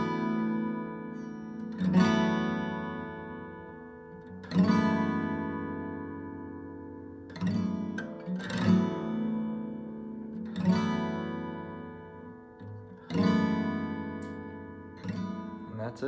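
An acoustic guitar plays the chord sequence of a cover song, with about seven strummed chords ringing out and fading between strokes, alone and close.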